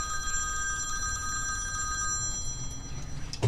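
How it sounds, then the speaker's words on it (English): A telephone rings steadily with a bright repeating electronic bell tone, moderately loud and close, continuing throughout over faint room noise. "Well, it's going to keep ringing"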